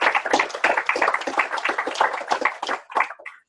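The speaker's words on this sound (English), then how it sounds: "Should we do the applause first?" Small audience clapping after a technical conference talk, a fairly close patter of individual hand claps that thins out and stops near the end.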